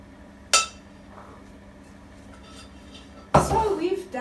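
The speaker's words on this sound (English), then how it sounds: "So I'm going to just transfer it into a little serving dish." Tomato salsa being transferred from a cooking pot into a small serving dish, with two sharp clinks of utensil against cookware about three seconds apart, the second followed by a brief clattering scrape.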